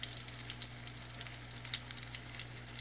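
Vegetarian spring rolls sizzle steadily in hot oil, with a dense crackle of bursting bubbles and a low steady hum beneath, close up and with no voices.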